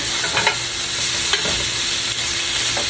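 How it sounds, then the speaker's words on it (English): A spoon stirs cayenne pepper through onions frying in a pan: a few scraping stirs over a steady, bright sizzle of hot oil, close and alone with no talk. "I'm going to stir up that cayenne pepper in here"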